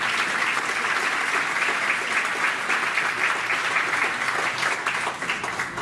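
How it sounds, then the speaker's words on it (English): Audience applause fills a board meeting room, a dense, steady crowd clapping that continues throughout at fairly loud level before easing slightly at the end. "Let's give a big round of applause to Ms. Vargas and Ms. Vecina."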